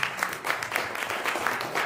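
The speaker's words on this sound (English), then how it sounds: "I want you to give them a round of applause again." Audience applause at a church event, a steady wash of clapping from a crowd that carries through the whole stretch at moderate level with no clear break.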